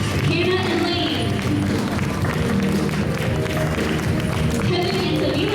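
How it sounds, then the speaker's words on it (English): A steady wash of clapping rises from a church crowd applauding couples at a Hmong New Year gathering, with crowd noise and some thumps mixed in. The level holds constant without fading. "Keep giving them a round of applause."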